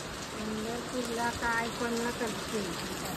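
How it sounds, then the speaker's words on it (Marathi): Rain falls steadily in a constant wash of noise while a voice speaks over it. "लई पाऊस वाढला"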